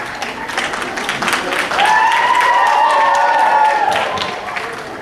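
An audience at a church vacation Bible school session claps, building to a sustained burst of applause, with voices and cheering mixed in.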